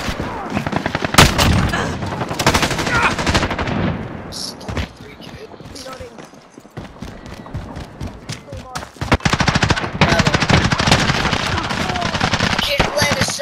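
Rapid bursts of automatic gunfire from the Call of Duty Modern Warfare video game, loud and close, mixed with explosions and in-game radio voices, with a brief lull in the middle before heavy firing resumes.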